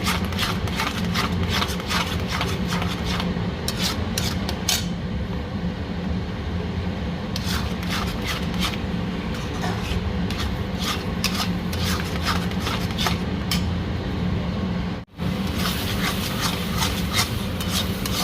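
Spice paste being stirred and fried in a wok for palak paneer, a steady scraping, rubbing sound of a spatula working thick masala against the pan, continuous and close with a brief break near the end.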